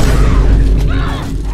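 A rifle fires in The Last of Us Part 1, a loud booming blast that opens the clip and rolls into a sustained low rumble that slowly fades, with no talk over it.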